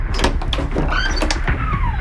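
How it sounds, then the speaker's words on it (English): A bathroom door swings open as a sound effect, a brief creak and shuffle of movement with a rising squeak, set against a steady murky background hum, close and moderately loud. "The door to the bathroom suddenly opened"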